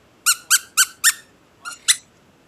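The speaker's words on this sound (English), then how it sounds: "They will rip a brand new toy apart within moments to get to that squeaker." A squeaky dog toy gives six sharp, high squeaks, four evenly spaced in quick succession, then a pause and two more, close and clear against a quiet background.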